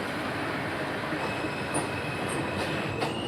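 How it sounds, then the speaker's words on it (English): A New York City Subway 7 local train bound for Flushing–Main Street at Court Square Station, a steady loud rumble of rail noise with brief high wheel squeals near the end. "this is a Flushing Main Street bound 7 local train."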